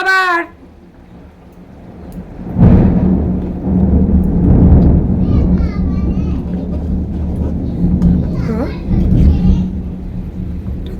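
A heavy monsoon thunderstorm with lightning rolls around a home kitchen, a loud thunder rumble breaking in after a couple of seconds and sustained rain noise continuing, while people talk faintly in the background.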